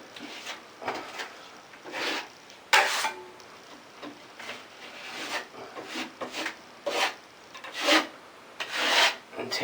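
A putty knife skims drywall compound lightly over a wall in repeated rasping strokes, close and fairly loud, each swipe a short scraping burst separated by brief pauses.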